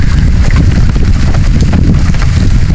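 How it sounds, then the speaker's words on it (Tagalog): Steady, loud roar of heavy typhoon rain mixed with gusting wind buffeting the microphone, continuous throughout with no letup. "Lakas ng ulan. Sa hangin."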